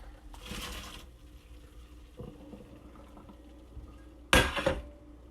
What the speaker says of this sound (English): Now that the pasta is ready, I'm just going to drain it.